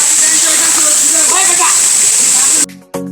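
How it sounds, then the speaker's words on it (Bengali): Loud, steady rush of a waterfall beside a jungle trekking trail at Napittachhora, a broad continuous roar of falling water that fills the scene, then drops away abruptly near the end. "কোথা থেকে যে ঝর্ণাটা আসতেছে দেখতে পাচ্ছেন"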